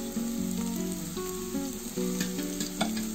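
Finely chopped onions frying in hot oil in a pan, a steady dense sizzle with some stirring scrapes, close and continuous with no talking.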